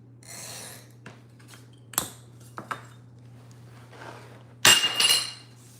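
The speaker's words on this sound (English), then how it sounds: "so we're going to go ahead and we'll cut this glass" Stained glass is scored and snapped while making a praying mantis piece, with a scratchy rasp, a few sharp cracks and clinks, and a louder glassy snap near the end over a steady low hum.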